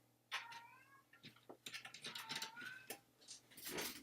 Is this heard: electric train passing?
no